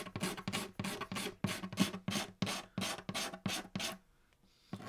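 A razor blade scraping finish off the wood under the bridge of a Martin guitar, about a dozen close, rhythmic rasping strokes in quick succession, then quiet.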